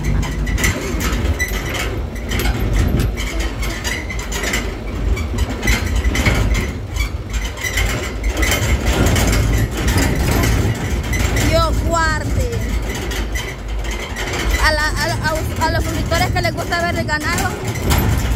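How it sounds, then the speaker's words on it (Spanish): Steady engine rumble and road noise fill the cabin of a moving car for the whole ride, loud and continuous, with voices talking over it in the later part. "Disculpen la bulla que llevamos, pues no somos nosotros, no, que es el carro."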